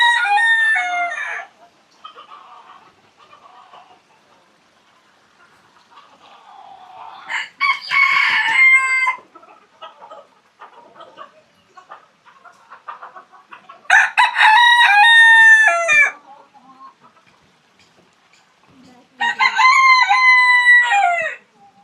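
Roosters crow loudly and nearby in a garden in Sheki, Azerbaijan, several long calls spaced across the stretch, with softer clucking and scratchy rustles between them.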